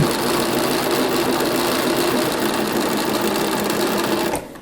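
A sewing machine stitching a fabric circle for a cathedral window ornament, a loud, close, steady whirring rattle of rapid stitches that runs evenly for several seconds before stopping abruptly.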